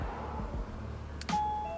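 A JDM-style reverse backup alarm set to its melody mode plays a clear electronic chime tone after a brief click, sustained steady notes close by against a low hum.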